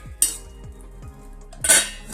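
A metal pot for steaming prawns is set down on a gas stove with two sharp clanks of metal, separated by quieter rattles and faint ringing, close by and with no talk.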